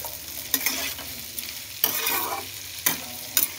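Chopped vegetables and two slit chillies fry for a vegetable soup, a constant close sizzle broken by several sharp scraping stirs of a spoon against the pan.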